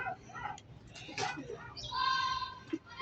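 A racing pigeon arriving at a loft after a 186 km race from Mulanay, Quezon, heard as soft coos and chirping bird calls near the microphone, with background chatter and light handling noises.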